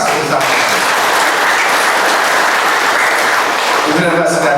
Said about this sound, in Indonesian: mari kita tepuk tangan yang keras bersama.